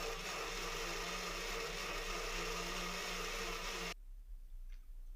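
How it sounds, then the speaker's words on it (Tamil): A mixer grinder whirs loudly and steadily for about four seconds, grinding tomatoes, then cuts off abruptly into quiet. "மிக்ஸி ஜாரில் சேர்த்துட்டு நல்லா நைஸாக அரைச்சி எடுத்துகிட்டு வந்துடலாம்."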